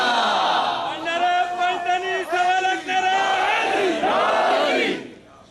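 A large crowd at an Urs gathering for Hazrat Sakhi Sultan Bahu chants a religious slogan in unison, loud and close. The chant is sustained with rising and falling voiced calls and fades at the end.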